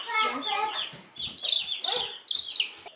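High, shrill chick peeps repeat rapidly and close by, with a few soft clucks mixed in and no talking.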